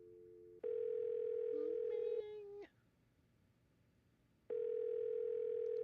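A telephone dial tone plays in the Nancy Drew video game The White Wolf of Icicle Creek as a call is placed, a steady tone that shifts briefly in pitch, drops out for a couple of seconds, then returns, clear and close.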